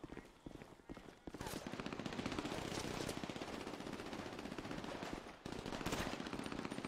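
Video game gunfire: sustained rapid automatic bursts with short gaps, loud and dense, running almost without pause through the whole stretch.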